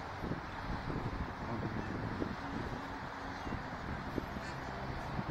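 Waterfowl at Echo Park lake in Los Angeles, scattered honks and quacks rising from outdoors over steady wind and ambient noise, a few calls standing out near the microphone.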